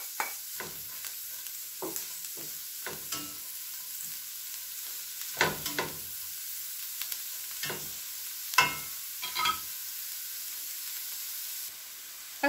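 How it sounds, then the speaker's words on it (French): Endives sautéing in melted butter in a pan, a soft steady sizzle with repeated stirring scrapes and clicks at irregular intervals, moderately close and without talk. "Ensuite, je vais faire revenir"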